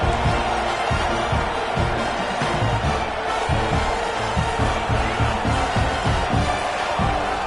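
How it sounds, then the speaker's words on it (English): A packed football stadium crowd roars loudly and continuously, a dense wall of cheering with a pulsing low rumble throughout. "with this place rocking, the crowd forces a false start"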